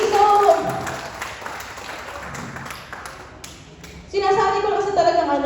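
Applause from a church congregation after a closing prayer, a clattering wash of claps that fades midway and swells again near the end, with voices mixed in.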